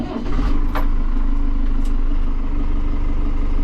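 A Case IH Farmall 90M tractor's diesel engine catches after a brief crank and settles into a steady, close, loud idle with a low rumbling clatter.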